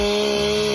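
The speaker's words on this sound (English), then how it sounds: "Then I got a chainsaw." A chainsaw with a dull chain bites into a tree stump, giving a loud, steady, rough buzzing drone close by, with no other sounds over it.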